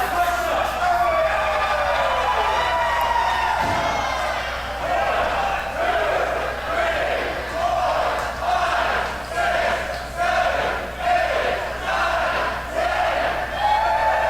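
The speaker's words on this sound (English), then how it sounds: "And the crowd loving it." A wrestling crowd cheers and roars steadily throughout, with rhythmic surges of shouting and chanting that swell and dip over the continuous din.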